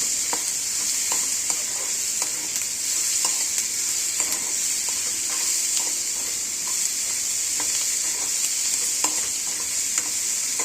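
Capsicum fries with a steady sizzle in a pan, a spatula scraping and stirring at irregular intervals, close and continuous, no voices.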